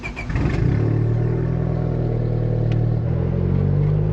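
A turbocharged Honda Civic engine cranks and catches, then settles into a steady, close idle with a low, even hum.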